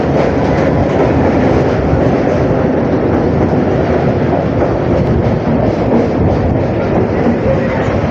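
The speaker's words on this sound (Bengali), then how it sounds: "ট্রেন এখন আমাদের ছেড়ে দিল কালীনারায়ণপুর জংশন থেকে" A train rolls along the tracks near Kalinarayanpur Junction on the Ranaghat–Krishnanagar line, a loud, continuous close rumble with rhythmic rattling of the carriages throughout.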